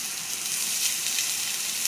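A silver cod fillet pan-fries with herbs in a Korean La Rose pot, giving a steady close sizzle and soft hiss with no voices.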